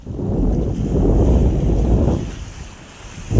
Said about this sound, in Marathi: इकडे हा समुद्र निरसर फेसाळलेला समुद्र आहे